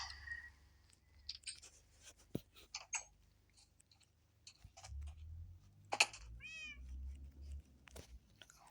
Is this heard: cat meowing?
yes